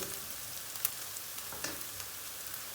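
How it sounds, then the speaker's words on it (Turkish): Onions sautéing in a little oil in a pan for open-style dolma, a steady soft sizzle and crackle with a few sharper pops, continuous and close with no talking. "Soğanımızı az yağ ile güzelce bir kavuracağız."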